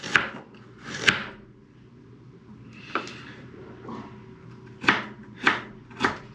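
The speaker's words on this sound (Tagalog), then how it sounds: "Hiwa na po tayo ng ating rekado, sibuyas at luya lang po." Onion and ginger being cut on a board: six separate sharp knife chops, spaced irregularly, close and clear with quiet between strikes and no talk.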